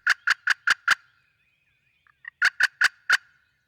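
Wild turkeys gobbling on a Kentucky spring hunt: two bursts of four or five rapid, loud gobbles each, separated by a quiet gap with a faint soft call in between.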